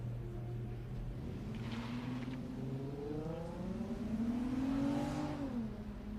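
A number 165 Mazda Miata race car on an autocross course at Daytona, its engine droning loud and close with the pitch climbing and dipping through gear changes and rising revs.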